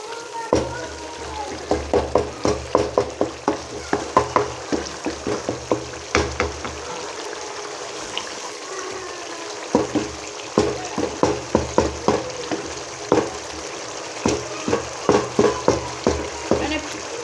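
A masala with tomato is stirred while it fries in ghee for a daal mash, giving repeated scraping, clinking spoon strokes over a steady low sizzle, close and moderately loud, with a few pauses.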